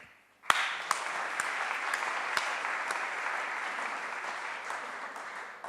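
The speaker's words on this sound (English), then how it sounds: "this is another time when I ask you to clap." Audience applause at a software conference keynote, a sharp start followed by steady, sustained clapping from a large crowd that holds at an even level, with a few louder individual claps standing out.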